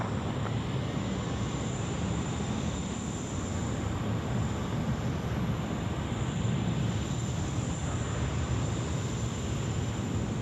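Airliner landing on runway 16 Right at Sydney Airport, heard as a steady, distant jet roar with broad rumble and no speech over it.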